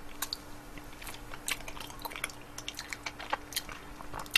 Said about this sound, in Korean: 아이스크림 먹방도 쩝쩝된다는 사실 잊지 마세요